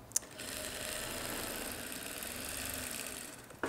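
A sewing machine stitches a fabric lining in one steady, fast whirring run that starts and stops with a click, close and clear with no talk.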